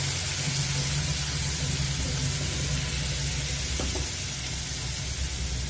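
Spice paste frying in a pan with a splash of water gives a steady, close sizzle and hiss, with a faint clink or stir partway through and no talking.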